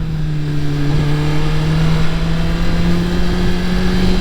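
A motorcycle engine holds a steady, loud droning hum as the rider leans harder through a wide turn, with wind noise underneath and no speech.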